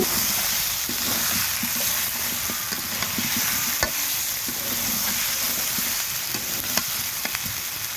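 Elephant foot yam with onion and garlic paste stir-fried in a pan, giving a steady loud sizzle broken by scattered clicks and scrapes of the spatula, with no talking.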